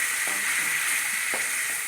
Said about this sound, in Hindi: अब हम इस स्टेज पर अपना 1 टेबल स्पून अदरक और लहसुन दोनों शामिल करेंगे और इसको सौते करेंगे।